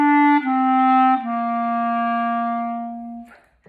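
Clarinet playing legato-tongued notes, smooth and connected: a few sustained, clear tones that glide into one another with soft re-articulations, close and solo, ending abruptly.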